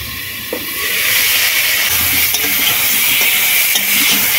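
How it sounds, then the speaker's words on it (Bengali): Papaya pieces being stir-fried in a pan, a loud, close, continuous sizzle with scraping strokes of a spatula and an occasional light clink. "হালকা করে কিন্তু কষিয়ে নিয়েছি"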